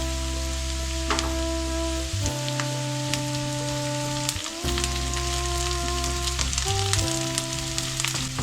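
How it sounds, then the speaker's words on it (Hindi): About a tablespoon of garlic with vegetables frying in a pan, giving a steady, close sizzle throughout with no talking; a few faint tonal hums sit underneath. "इनको हम तकरीबन 2 मिनट तक थोड़ा फ्राई करेंगे।"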